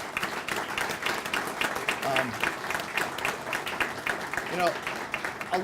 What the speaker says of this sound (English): If you could join me in a round of applause for these wonderful sponsors.